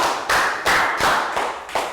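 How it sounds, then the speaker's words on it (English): A classroom of Year 3 children gives a round of applause for a classmate, heard as about five loud, separate bursts of clapping close by, with no talk over it. "Round of applause for Pat."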